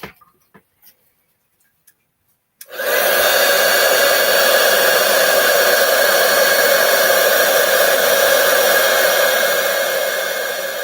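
A heat embossing tool switches on after a few faint taps and blows steadily at a stamped cupcake, a loud, continuous, close whirring hiss with a slight whine lasting to the end.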